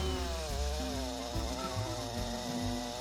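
A chainsaw with a poorly sharpened chain runs steadily while cutting, its engine note wavering and juddering with a rough, rattling vibration, close and loud.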